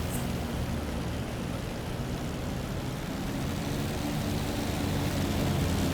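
An aircraft engine drones steadily in flight in the DCS Normandy flight game, a loud, unbroken roar with a deep rumbling low end and no voices.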